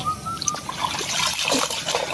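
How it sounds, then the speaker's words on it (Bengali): Water trickling and dripping off freshly washed dishes set on a tree branch in a village, a steady close patter of drops without any talk. "গাছের ডালের উপরে দিলে আপনার নিগড়ে যাইব আর কি, মানে জলটা যে নিগড়ে যাইব"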